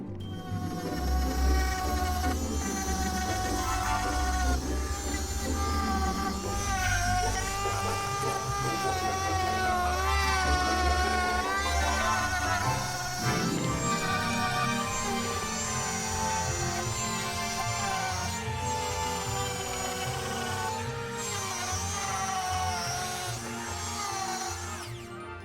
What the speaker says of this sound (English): What we'll use is a drum sander that happens to be in there.